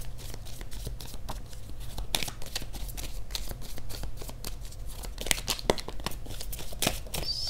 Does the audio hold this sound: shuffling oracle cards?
yes